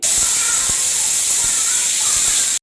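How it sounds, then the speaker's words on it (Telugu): A pressure cooker on the stove, cooking goat head curry, releases steam in a loud, continuous high hiss that cuts off abruptly at the end. "ఆవిరిపోయినాక విజిల్ తీసుకోవాలి సో ఇంకా హీట్ పోలేదు"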